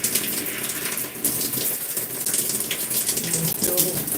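Tap water runs loudly and steadily into a sink while a hair clip is rinsed under it, a constant close splashing gush.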